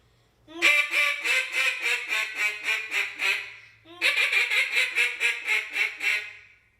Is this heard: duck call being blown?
yes